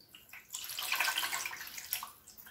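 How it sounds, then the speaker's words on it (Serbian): Water pours steadily into a shallow metal pan, a splashing rush lasting a couple of seconds before tapering off. "Tu nalijem malo vode, otprilike do pola pleha"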